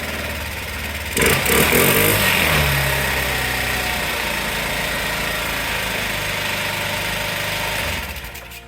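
Small Honda CH80 scooter engine running on a new aftermarket carburetor, a steady close buzzing idle that starts abruptly after a second and holds evenly, loud and alone, before cutting back near the end.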